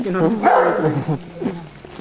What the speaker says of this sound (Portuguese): Aquele cachorro, parece cachorro de fundo.